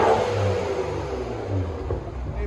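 A 2014 BMW 535i inline-six revs hard through a straight-pipe exhaust, a loud, sustained raspy roar that holds steady close to the microphone for the full stretch.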